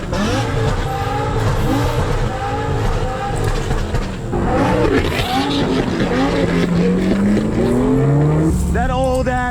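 A murdered-out C8 Corvette with a swapped-in V12 roars loudly throughout, its revs rising and falling in sweeping pitch, with talk faintly underneath.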